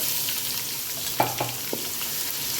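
A quiet, steady sizzle of cumin, asafoetida and chili sautéing in hot oil, with a few soft stirring taps.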